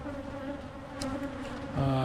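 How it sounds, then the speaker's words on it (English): A crowded, feisty colony fills an open backyard hive box during an inspection, giving a close, steady droning hum that swells louder near the end. "There's a lot of bees in it"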